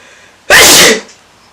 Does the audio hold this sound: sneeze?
yes